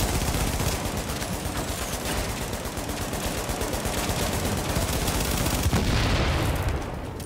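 Rapid, dense shotgun fire in The Division on Xbox One, with blasts overlapping into a continuous loud barrage throughout, close and unrelenting, with no voices over it.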